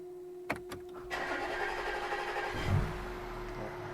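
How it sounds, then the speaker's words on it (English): Audi A5 3.0 TDI diesel with newly coded big injectors and some air still in the fuel system, cranking with a couple of starter clicks, then turning over for a while before catching and settling into a low running rumble. "Still taking a little bit of cranking."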